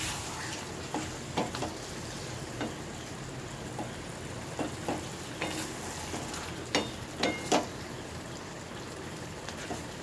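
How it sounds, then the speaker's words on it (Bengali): Chicken with spices slowly fried over a low gas flame in a pan, with a steady soft sizzle under intermittent scraping and stirring strokes and a few louder clanks of the spoon. "আস্তে আস্তে কষিয়ে নেব চিকেনটা।"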